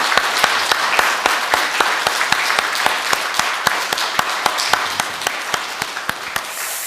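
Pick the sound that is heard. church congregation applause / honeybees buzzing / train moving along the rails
church congregation applause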